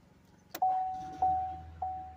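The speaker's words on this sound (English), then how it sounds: "You hear the chime." Three soft electronic chimes from a 2014 Chevrolet Impala Limited's door lock ring at even intervals, each preceded by a faint click, in an otherwise quiet setting.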